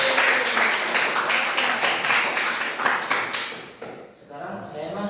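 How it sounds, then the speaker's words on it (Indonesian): A classroom group claps hands together after finishing a Quran lesson on Surah Al-Fatihah, a dense burst of applause that runs steadily for about four seconds and then fades, with voices in the background. "Tepuk tangan, tepuk tangan."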